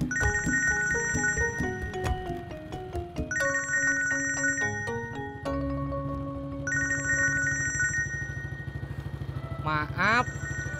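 A phone ringtone plays a repeating electronic melody loudly and continuously over low engine-like rumble, with people speaking in Indonesian amid a street scene of a motorcycle taxi stand.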